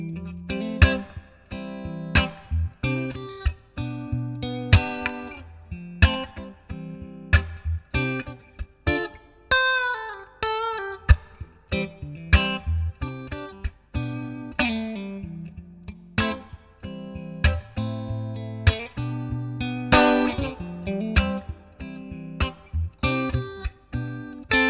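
A Fiesta Red Macmull S Classic electric guitar played through effects, with distorted, chorus-tinged strummed chords and picked lead lines in a steady rhythmic pattern, loud and close throughout with no voices.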